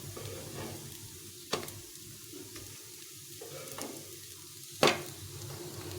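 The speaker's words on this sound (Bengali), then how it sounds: "এভাবে উল্টে পাল্টে ভেজে নিলাম, সুন্দর লাল লাল ভাজা হয়ে গেছে" Banana flower fritters (mochar bora) fry in oil with a soft, low sizzle, broken by two sharp clicks of a utensil against the pan, heard up close without any speech.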